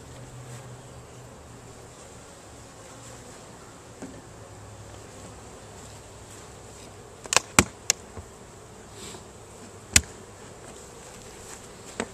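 Honey bees in an opened hive give a faint, steady buzz throughout, broken near the end by a few sharp clicks and knocks from handling the hive parts.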